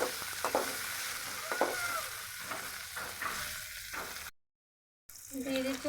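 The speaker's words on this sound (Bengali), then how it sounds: "এখন আমি তেলের মধ্যে পেঁয়াজ আর কেটে রাখা কাঁচামরিচ দিয়ে দিচ্ছি" Onions and chopped green chillies frying in hot oil, a steady crackling sizzle with brief stirring scrapes, cut by a short gap of silence before the sizzling resumes.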